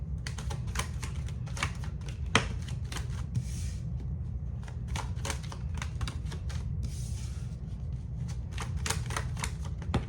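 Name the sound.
shuffling and pulling tarot cards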